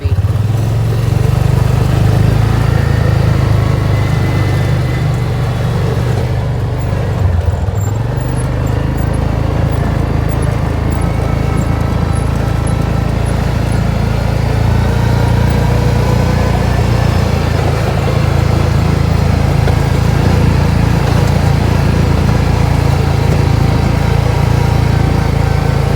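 A UTV engine runs steadily and loudly throughout, a constant low motor drone with a slight dip partway through, at an orchard being prepared.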